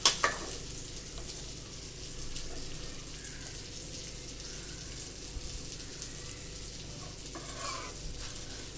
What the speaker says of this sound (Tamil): மீன் நல்லா முங்குற அளவுக்கு அதை கிண்டி விடுவோம்